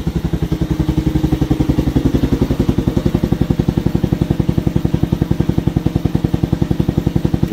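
A motorcycle engine running inside a garage, a loud, close, rapid even pulsing that fills the room from start to finish, with no talking.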